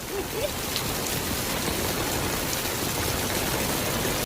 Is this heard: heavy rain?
yes